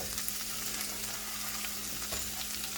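Chopped cabbage from a small head fills a pan and fries, producing a steady, even sizzle with faint crackles and a light stir near the end, fairly quiet and without talk.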